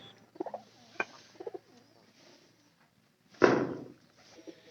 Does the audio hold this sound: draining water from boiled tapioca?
no